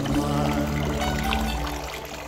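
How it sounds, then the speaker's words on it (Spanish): Clear water flows at the ethnographic museum Pazo da Cruz in Covelo, Galicia, a steady close pouring rush that fades slightly toward the end, with no voices. "con las aguas cristalinas allí fluyendo"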